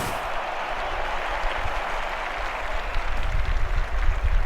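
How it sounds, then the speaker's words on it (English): Faint crowd applause in a sports video game makes a thin, steady patter of clapping that swells slightly toward the end, with no talk over it. "Barely a ripple of applause from the crowd."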